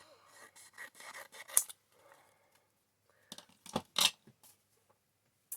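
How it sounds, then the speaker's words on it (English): Snips of scissors cutting the green flip off a fresh pack of craft flowers for a small bloom rainbow wreath, a few close, sharp cuts with rustling handling in between, no talking. "so I'm going to cut that off"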